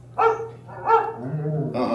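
A dog barks a few times close by, short sharp yaps spaced roughly half a second apart, with a low hum underneath.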